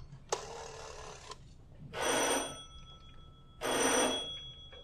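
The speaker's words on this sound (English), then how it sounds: "Ringing the police department." A telephone rings at a police department, three long, clear bell rings separated by short pauses, with no other sound around them.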